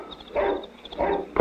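Dogs bark at night on an island, two muffled, distant bursts about half a second apart with a sharper yelp at the end, faint and without any talk.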